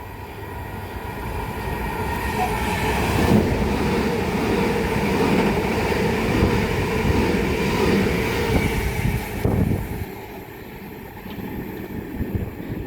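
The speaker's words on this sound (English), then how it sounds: "It's going to be a pair of Southeastern Class 375s running from London Charing Cross to Dover Priory." A pair of Southeastern Class 375 electric trains run past at Grove Park on the South Eastern Main Line, a loud, close, sustained rumble and wheel noise building and rolling for about ten seconds before easing off.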